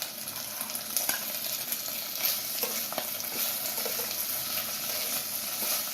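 Chopped tomatoes go into a pan of browned onions frying in oil, and a steady, close sizzle continues with a few soft stirring clicks throughout, at moderate loudness and with no speech.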